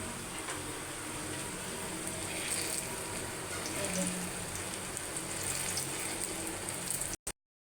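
Sweet mango puli pitha dumplings frying in hot oil give a dense, rain-like crackle and sizzle, steady and close for several seconds before stopping abruptly, with no voices.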